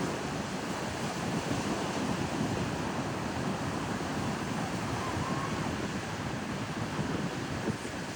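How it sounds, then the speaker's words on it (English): Strong wind buffets the microphone at Jupiter Beach, a dense continuous roar blended with surf, steady and loud throughout with no voices. "The wind is starting to crank now."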